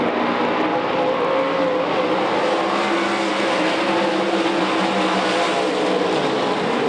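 Modified race cars roar around the Knoxville Raceway dirt track during a heat race, a loud continuous engine drone with a steady, dense pack of motors and no pauses.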